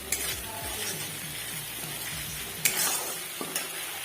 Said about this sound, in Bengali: ভালো করে নাড়তে হবে যাতে কড়াইয়ের সাথে না লেগে যায় মশলাগুলো